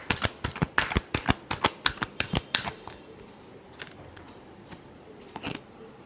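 Tarot cards are riffled and shuffled in a quick run of crisp, sharp flutters for about three seconds, then a few softer, scattered card taps in near silence.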